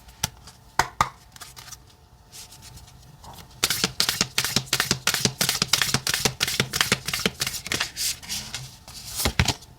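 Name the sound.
shuffling oracle cards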